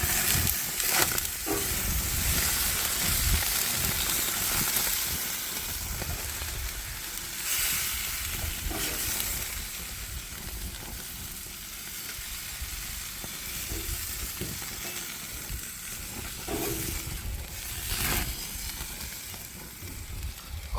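Steaks sizzle steadily on a Napoleon Freestyle 365 propane grill, a continuous close hiss and crackle with occasional louder pops, and no voices over it.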